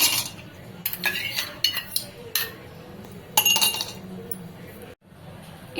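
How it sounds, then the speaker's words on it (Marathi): Ice cubes clink and rattle into a glass of mango lassi, a series of sharp, bright taps and knocks spread over several seconds, close and fairly loud, with a short pause near the end. "आता याच्यामध्ये आपण आईस क्यूब टाकून घेणार आहे."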